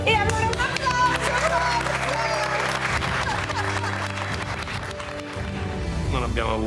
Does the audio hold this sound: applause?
yes